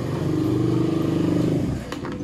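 Close motorcycle engine idling and revving with a steady throbbing note, then cutting back near the end, heard alone without talk.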